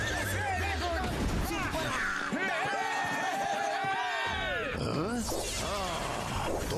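An animated horse whinnies amid a busy cartoon chase scene, with high warbling neighs riding over music, effects and overlapping voices talking.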